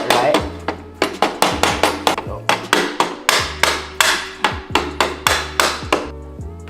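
A mallet taps repeatedly on a wheel kit mount for a Timbersled snowbike dolly, about fifteen crisp, evenly spaced knocks, close and loud, with a brief voice between some strikes.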